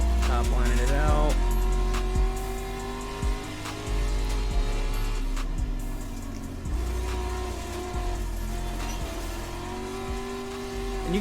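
A dirt-track street stock race car in iRacing at Port Royal roars loud and steady, its engine revving and easing as throttle and brakes are worked, with a voice talking over it.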